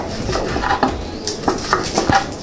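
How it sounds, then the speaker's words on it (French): Knife chopping food on a board during a home cooking session making vegetable and meat fried rice, a series of several short, moderately loud cuts in an uneven rhythm, with no voices. "Je coupe."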